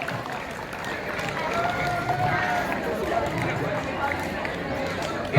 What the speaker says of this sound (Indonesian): Tepuk tangan dulu dong buat teman-teman di depan.